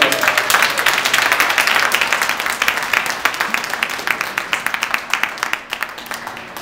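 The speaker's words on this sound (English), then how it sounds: "Give them a round of applause" A spelling bee audience applauds its competitors with loud, dense, sustained clapping that thins into distinct individual claps toward the end.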